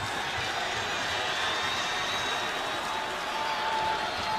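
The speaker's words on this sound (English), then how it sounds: "this home crowd is really into this game now" Home crowd at a Liberty versus Kennesaw State college football game roars steadily in the stadium, a dense, continuous wall of cheering and noise with no distinct breaks.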